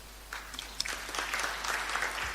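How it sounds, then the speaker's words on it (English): Audience applause at a live Thursday entertainment event, breaking out after the chairman's speech, a steady dense patter of many hands that starts abruptly and holds at moderate loudness without talk. "A round of applause for the chairman."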